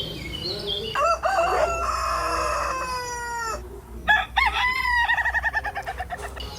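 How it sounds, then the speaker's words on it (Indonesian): A rooster crows twice, close and loud: a long drawn-out call, then a second crow breaking into rapid pulsing notes, with no voices. "Ayam jago."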